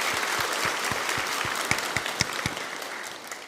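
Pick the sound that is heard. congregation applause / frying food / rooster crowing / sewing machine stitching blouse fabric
congregation applause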